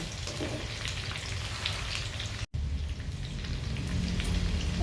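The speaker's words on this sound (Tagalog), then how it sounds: "Ayan, haluin natin para lumasa yung virgin oil." Pork belly that has already been fried is stirred in a pan with virgin oil, giving a steady, close crackling sizzle throughout, with a brief dropout midway and no talking.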